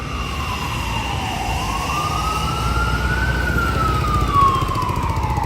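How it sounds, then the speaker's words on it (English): A fire department ambulance's wailing siren rises and falls steadily over loud street traffic rumble on 5th Avenue in New York City, sounding close and continuous. "The fire department ambulance running on 5th Avenue."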